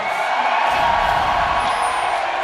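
Arena crowd at an MLG Anaheim League of Legends esports match between Curse and Team Solo Mid, a steady loud roar of cheering and whooping that holds without a break for the whole span.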